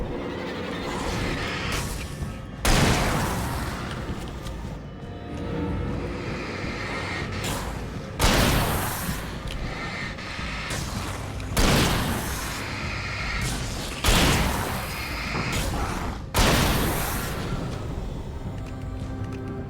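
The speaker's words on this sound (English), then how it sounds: "Would you like to come down here so I can shoot you with a gun?" Gunshots in the video game Alan Wake: a handful of heavy, booming shots fired a few seconds apart, each loud and reverberant, over a dense rumbling game background.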